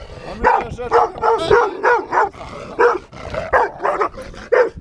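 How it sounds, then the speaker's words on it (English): A dog barks repeatedly at close range, sharp loud barks in irregular bursts with brief yips between them. "almost a victim of a dog attack"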